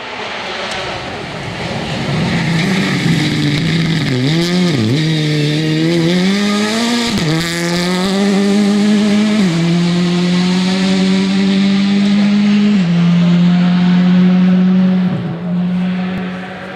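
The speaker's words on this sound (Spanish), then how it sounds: "El coche va subiendo, cabrón." A rally car engine roars close and loud as it climbs uphill through curves on a gravel stage, revs rising and dropping through gear changes and bends, with a brief lift before pulling hard again.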